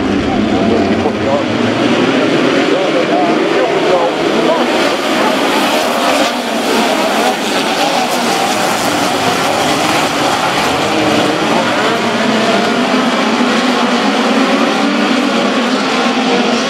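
Midget race cars in a POWRi National Midgets 30-lap feature at Caney Valley Speedway roar continuously at full volume, engines blending into a dense, steady racing drone with an announcer's voice woven through.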